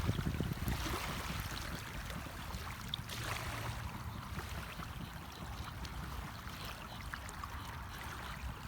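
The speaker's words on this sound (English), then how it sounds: "Hopefully you guys can hear the waves too. Not a lot of waves, but just enough for that little bit of background." Gentle sea waves wash softly onto a calm shore at sunset, a faint, steady watery rush with small splashes and no voices, continuous and low throughout.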